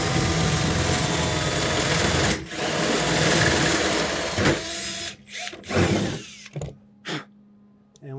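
A power drill with a 5/16 bit bores holes through a Toyota Tundra truck bed, running in a long continuous whine for about two seconds, then again, before ending in several short, sharp bursts.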